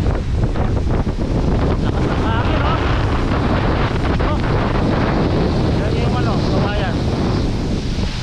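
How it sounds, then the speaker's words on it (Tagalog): Strong wind roars continuously outdoors on a farm, a loud steady buffeting rush across the microphone throughout. "Grabe hangin, ang lakas,"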